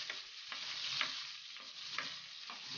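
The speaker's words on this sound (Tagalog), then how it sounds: "igigisa ko po muna yung bawang" Large slices of garlic fry in oil for chicken wings adobo, a soft continuous sizzle broken by periodic scraping strokes of a spatula stirring in the pan, quiet and close with no voices.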